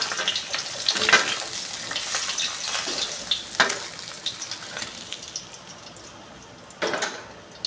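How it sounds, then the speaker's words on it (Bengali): Rohu fish pieces frying in hot oil in a home kitchen, with a soft continuous sizzle broken by a few sharper crackles and spatters, close and moderately loud, with no talking. "মাছটা হালকা ভাজা হয়ে গেছে।"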